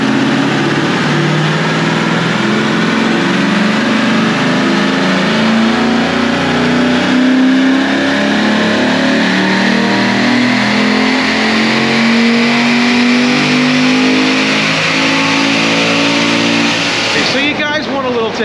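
A Corvette's engine, fitted with Cooks catted midpipes, revs hard and steadily on a dyno, its rising drone held loud and close for nearly the whole run before cutting off abruptly near the end.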